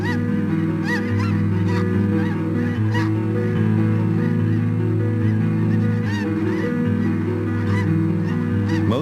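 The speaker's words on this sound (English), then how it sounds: "Snow geese arrive for the winter." A dense flock of snow geese honks continuously at a salt marsh, many overlapping calls forming a loud, steady clamor close by.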